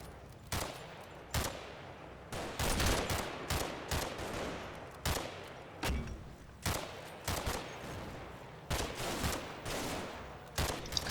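Rifle and machine-gun fire pours out as suppressive fire in the wargame Combat Mission, with sharp separate cracks and short bursts coming every second or so, some loud and near and others fainter, all over a quiet background.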